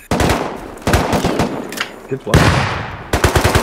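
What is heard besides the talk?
gunfire in the video game Rust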